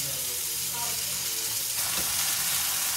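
Chicken steak sizzles steadily on a hot cast iron grill, a continuous bright frying hiss that swells slightly partway through.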